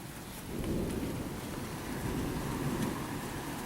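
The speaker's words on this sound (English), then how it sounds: "You feel the rain?" Rain falls steadily in a broad, even hiss outdoors under a cold shower, with a low rumbling undertone throughout and no talking.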